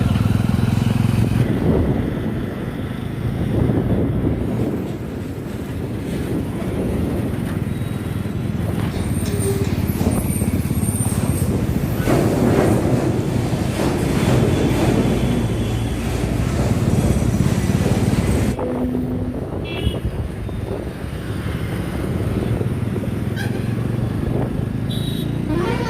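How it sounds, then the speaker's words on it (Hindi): Motorcycle riding through heavy town traffic in Muzaffarpur, India, on a long-distance trip, with a steady engine drone and surrounding vehicle and roadway noise throughout, continuous and fairly loud. "कितना ट्रैफिक है, हमेशा आपको हैवी ट्रैफिक, और अभी भी वही देखना पड़ रहा है।"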